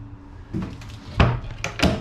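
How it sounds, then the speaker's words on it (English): Homemade wooden storage box drawers in a Starcraft Chieftain camper rebuild are opened with a few close, hollow wooden thunks and slides over about two seconds. "you can open these drawers for storage."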